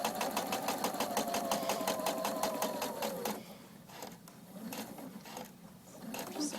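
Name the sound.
sewing machine stitching napkin seam and back stitching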